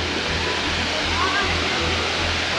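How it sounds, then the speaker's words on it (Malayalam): Rushing water at Abbey Falls in Coorg during April, when the flow is low, forming a dense steady roar of broadband noise with a faint low hum beneath it. "വാട്ടർഫോളിൻ്റെ ശബ്ദം ഇവിടെ നിന്നേ കേൾക്കാം."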